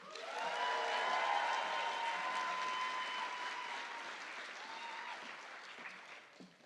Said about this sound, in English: Please, everyone, give Pemi a round of applause.